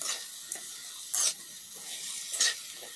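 Fried anchovies with black pepper being stirred in a pan, giving soft scraping strokes over a light sizzle, with a few louder bursts of sizzling.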